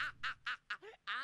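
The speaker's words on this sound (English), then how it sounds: "You get distracted by the swans." Swans calling in an anime episode: a short run of honking, nasal bird calls, five or six rapid squawks in a row, faint and without talk.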